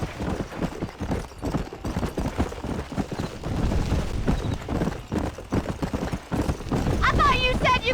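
Horses gallop in Red Dead Redemption, a fast, loud run of hoofbeats pounding across open ground, with a whinny near the end and voices talking over the riding.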